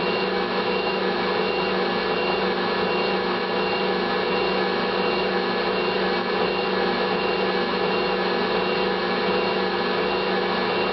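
An Electrolux Magic Mill (Verona, now Ankarsrum) mixer runs loud and steady, its motor droning with a rhythmic low churn as it kneads bread dough, close by with no voices.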